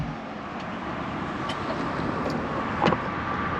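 A 2009 Ferrari 430 Scuderia on the road with its exhaust valves open, the engine and exhaust making a steady, loud, broadband roar that holds level throughout with a brief swell near the end.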